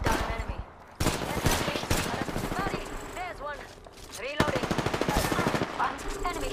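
Automatic gunfire in the Apex Legends video game: rapid bursts of shots crackle close and loud through most of the stretch, with short pauses between volleys and game sound effects mixed in.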